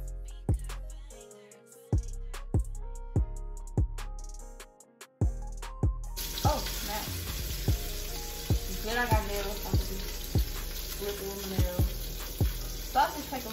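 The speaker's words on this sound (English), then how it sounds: "I don't really like hard bacon, so I flip mine fast." Bacon frying in a pan, first a few sharp pops and clatters as strips are flipped, then a loud, steady hiss of sizzling grease with scattered knocks of a utensil against the pan.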